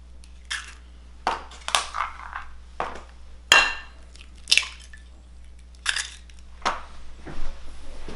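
Two eggs being cracked for a fish stick batter, heard as a series of close, sharp cracking and squishing taps with small drips and clinks of a bowl, with no one speaking.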